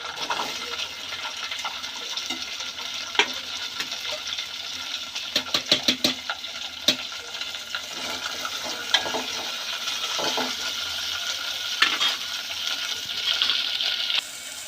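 Small washed okra pieces and onion fry in a pan with a steady close sizzle, punctuated by a cluster of quick scraping stirs and occasional louder clacks of the utensil against the pan.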